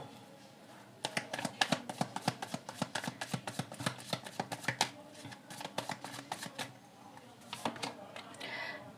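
Cards being shuffled produce a quick, even run of soft riffling flicks close by for several seconds, then a few looser slaps at the end.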